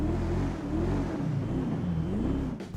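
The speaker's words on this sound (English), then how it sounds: "it definitely sounds like a W12" A deep, smooth W12 engine of the Benefactor Paragon R car in GTA Online drones and revs up and down in waves, loud and close, with a mechanical, game-like quality.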